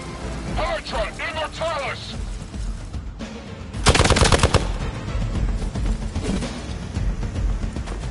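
Gunfire in Marvel Midnight Suns: after a stretch of game sounds and a brief voice-like passage, a loud, sharp burst of rapid machine-gun-like shots erupts for under a second, followed by lower rumbling combat noise.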